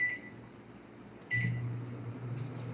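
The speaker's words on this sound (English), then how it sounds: "I tell you, I wish I didn't have to use a microwave." A microwave oven runs with a steady low hum that swells louder partway through. A short electronic beep sounds at the start and another comes as the hum rises. No one speaks.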